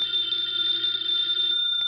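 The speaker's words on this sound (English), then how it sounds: "Answer the phone, Archie." A telephone bell rings in an old NBC radio drama, a steady, loud electric trill that holds for nearly two seconds before cutting off with a brief click, alone with no talk.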